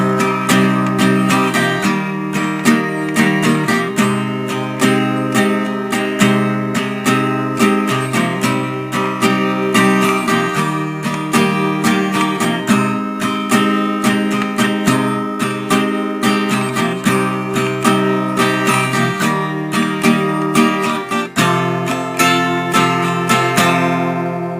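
Guitar strums the chorus of a song in a steady, dense rhythm, loud and close, with no voices over it for the whole passage.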